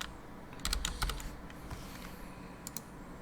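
Quick bursts of keystrokes on a computer keyboard as code is typed into a Jupyter Notebook. The clicks are close and fairly quiet, with short pauses between the clusters.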